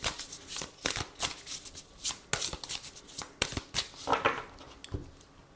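Oracle cards of a love-language deck are shuffled by hand, giving a run of quick, close riffling flutters and soft slaps in irregular bursts, with no talking.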